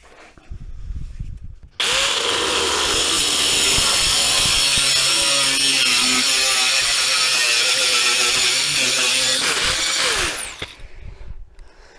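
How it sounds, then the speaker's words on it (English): A power tool cuts into a car body panel on a 1974 MGB GT, giving a loud, steady, high-pitched grinding whine for about eight seconds, starting and stopping abruptly, no speech. "we're going to make a cut in the panel"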